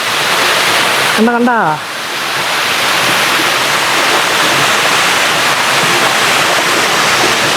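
A hidden forest waterfall pours into a pool below, a loud, dense, unbroken roar of rushing water up close; a voice briefly speaks over it early on.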